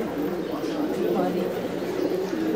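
Brown pigeon in a loft giving soft, low cooing, close by and continuous, with someone talking over it.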